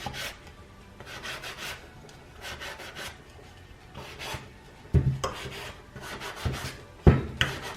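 A painted thrift store item gets roughed up by hand to distress it, with repeated rasping rubs in short uneven strokes and a few louder knocks near the end, close by and with no talking.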